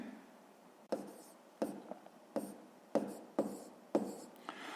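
A hand writes numbers with a pen on paper: a close, quiet series of about seven short scratchy strokes with brief pauses between them.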